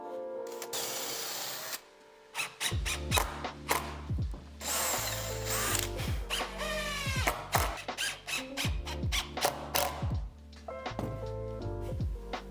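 A power drill drives four screws into wood, whirring in repeated short bursts that rise and stop, with brief pauses and clicks between them, loud and close.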